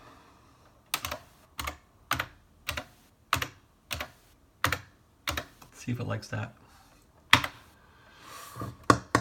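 Typing on a computer keyboard while entering default gateway settings to install an old HP LaserJet printer with JetDirect on Windows 10: a close run of sharp key clicks in bursts, with someone talking over them.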